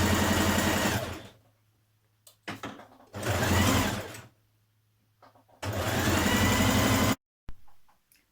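Domestic sewing machine stitching a dress bodice to its lining along the side seam, running in three sustained loud bursts separated by pauses and handling noises.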